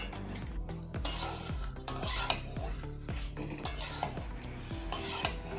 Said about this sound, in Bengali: এবার বেশ কিছুক্ষণ ভালোভাবে কষতে হবে আর দেখতে হবে যাতে তলায় না লেগে যায়